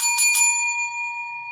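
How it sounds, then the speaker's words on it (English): A small metal bell, like a bicycle bell, is struck twice in quick succession, leaving a bright sustained ring that slowly fades, loud and close with no talking. "Did we ring the bell?"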